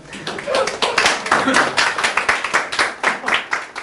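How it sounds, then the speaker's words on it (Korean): An audience in a speech lecture claps together in a steady, rhythmic beat that fills the whole stretch, with a voice faintly mixed in beneath it. "박수 한번 주세요."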